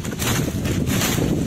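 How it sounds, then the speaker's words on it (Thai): Dry wind gusts through a forest, a steady loud rushing roar with buffeting on the microphone, no voices. "โอ้ยลมแห้งๆครับผม"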